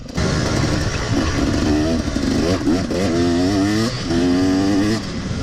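A KTM 250 Six Days two-stroke dirt bike engine revs loudly and continuously close by, its pitch rising and falling through several throttle bursts.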